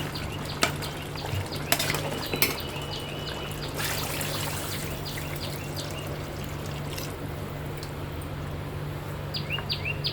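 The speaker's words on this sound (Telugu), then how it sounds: "ఇప్పుడు మనం రైస్లోకి వాటర్ వేద్దామండి" Water trickles and pours into a pot of rice for mutton biryani, a soft continuous splash under a low hum, with a few sharp clinks and faint bird calls in the background.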